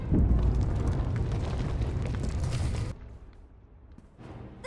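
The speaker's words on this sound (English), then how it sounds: "The shelter's collapsing!" Explosions as a shelter collapses in a video game, a heavy rumbling roar of blasts and crumbling debris, loud and close, cutting off abruptly to quieter scattered sounds.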